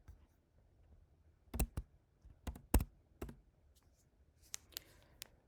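A short command is typed on a computer keyboard: a handful of sharp, close key clicks in an uneven rhythm, with pauses between them, in a quiet room with no voices.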